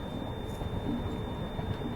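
The Suhaildev Superfast Express rolls slowly into a station, a low steady rumble of rail wheels and carriages close by, with no voices over it.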